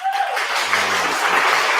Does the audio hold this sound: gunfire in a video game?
no